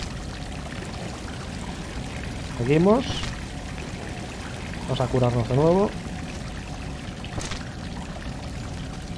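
Water flows continuously in a ruined temple area of Salt & Sanctuary, a steady background rush that carries on under two short bursts of male speech.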